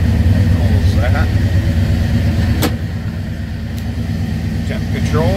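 A 1964 Pontiac LeMans engine runs at a steady, close idle with a low rumble, while a voice talks over it throughout.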